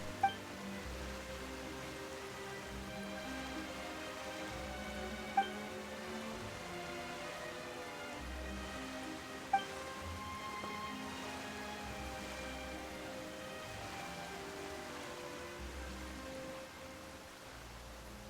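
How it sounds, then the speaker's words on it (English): Steady rain falls throughout in Genshin Impact, an even wash of drops on surfaces that runs unbroken, with a few faint clicks over it and soft music and tones underneath. "Why is it raining all of a sudden?"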